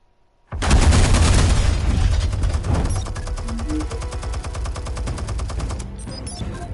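Gatling gun in a PS4 video game erupts suddenly into a sustained, rapid mechanical stream of shots, loud and unbroken for several seconds with a dense rattling texture and faint tonal effects underneath.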